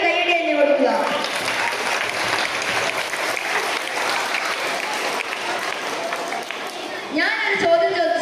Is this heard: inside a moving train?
no